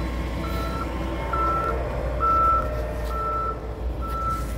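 A loader reversing into a trailer on a work site sounds five evenly spaced, clear reversing beeps over a steady diesel engine rumble, heard from a moderate distance.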